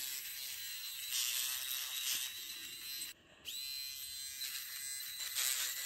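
A small portable electric hair remover buzzes steadily up close with a fairly faint, high whine, briefly cutting out midway before starting again.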